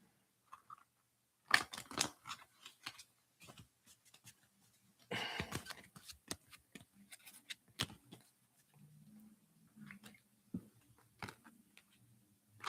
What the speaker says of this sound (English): Just shuffle your secret card deck and place it face down near your seeker sheet.